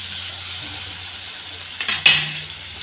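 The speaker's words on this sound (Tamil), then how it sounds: "இந்த ஸ்டேஜில் நம்ம வெங்காயத்தை சேர்த்துக்கலாம்." Onions fry with dry fish in a pan, a soft steady sizzle stirred with a utensil that scrapes and clinks against the pan near the end.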